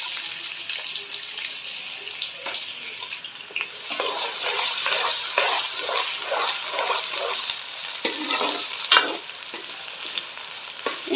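Three medium onions drop into hot ghee for Lahori chicken chana and sizzle steadily and close, with a series of soft stirring scrapes running through the frying.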